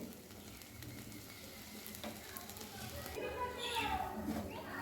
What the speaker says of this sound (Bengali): এবার উল্টো দিকটা মিনিট দুয়েক একটু ভেজে নেব